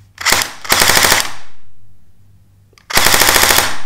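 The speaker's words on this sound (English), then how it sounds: "so let's do a dry fire first" CYMA CM125S mosfet airsoft gun dry firing, two close, loud rapid-fire mechanical bursts, the first broken by a brief gap, followed by a quiet pause and then a third burst.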